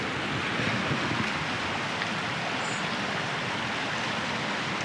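A small brook swollen by days of heavy rain, roaring in a steady, dense rush of water with no breaks, loud and close, with no voices.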